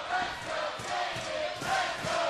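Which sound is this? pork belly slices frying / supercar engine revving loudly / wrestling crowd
wrestling crowd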